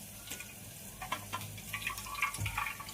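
Coriander leaves are washed under a running kitchen tap, giving a soft, continuous trickle and splash of water with small irregular spatters, fairly quiet and with no talking.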